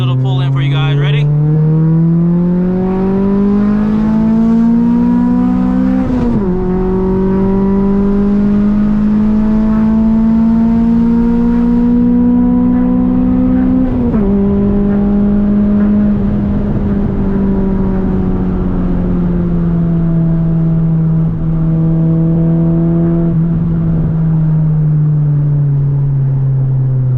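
A 1990s Honda Accord with an H22 engine pulls hard from inside the cabin, its loud engine note rising through the gears with shift breaks between, droning steadily and near.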